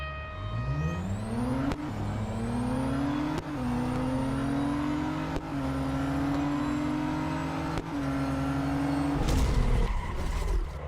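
Race car engine in a drag race in the video game Real Racing 3, a loud, steady engine drone that climbs in pitch and drops back at each of several quick gear shifts, with no talking.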